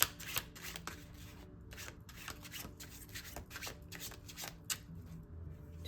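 Tarot cards are shuffled and handled at close range, a quick series of crisp riffling and rubbing bursts, soft and alone with no talk.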